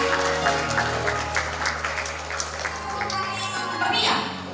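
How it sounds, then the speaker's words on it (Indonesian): Warm applause from a wedding crowd as guests enter, a steady patter of many hands with some crowd murmur, continuing for a few seconds. "Kita berikan tepuk tangan yang hangat."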